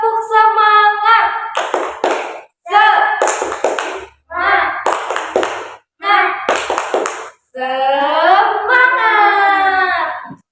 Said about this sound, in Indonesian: coba dong dites dulu tepuk semangatnya